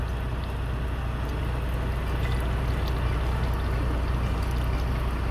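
Water from cooked spaghetti pours out of a spouted pan inside a truck, giving a steady, even rushing stream over a low constant hum for a few seconds.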